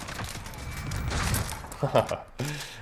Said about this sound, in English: the rate of fire of this thing is so fast